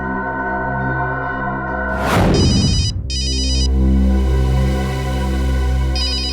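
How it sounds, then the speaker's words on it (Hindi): A telephone rings loudly and close in a repeating electronic bell pattern, interrupted briefly by a sharp rushing noise before the ringing resumes. "हो सकता है ये अखिल का फोन है, उठाइए।"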